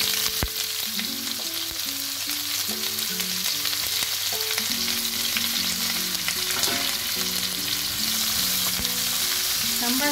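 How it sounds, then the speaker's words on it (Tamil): Two big onions fry in oil for a fish sambal, a continuous close sizzle with stirring scrapes and clinks throughout and no talking. "இதை எண்ணெயில் போட்டு வதக்கிக்கலாம்"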